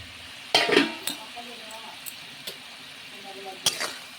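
Fried pointed gourd is poured into a pan with a sharp clatter and hiss, followed by soft sizzling and a few scattered scrapes and knocks.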